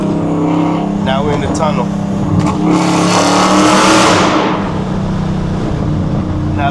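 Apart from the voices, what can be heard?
cammed Dodge Challenger R/T engine accelerating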